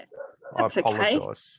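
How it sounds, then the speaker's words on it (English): Dogs bark and yelp in a home during a remote Zoom call, a short loud burst mixed in with a person talking. "Now I bet you can hear my dogs going off."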